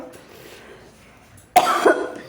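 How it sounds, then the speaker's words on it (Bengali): A single loud, harsh cough bursts out after a stretch of quiet room background, close to the microphone, during a home renovation workday. "সরি কাশি লাগলো"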